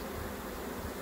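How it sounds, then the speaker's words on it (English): A honeybee swarm hangs in a fir tree at a home apiary, giving off a steady, dense buzzing hum that stays at an even level throughout the brief moment, with no voices. "is the swarm that came into the fir tree at our home apiary."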